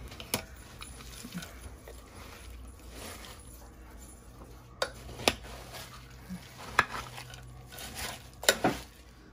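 Ingredients are stirred in a Crock-Pot, with soft scraping and clinking of a utensil against the pot and a few sharper knocks, all faint and close.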